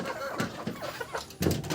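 A backyard flock of thirty to thirty-five golden hens clucks in short, scattered bursts close by, with a brief louder flurry near the end.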